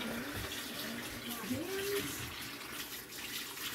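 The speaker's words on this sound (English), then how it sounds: "Now we rinse out the bowl." Water from a kitchen tap runs steadily into a bowl, rinsing it during a home tomato canning session, a soft continuous splash with a brief rising tone as it fills, quiet and close, with no speech.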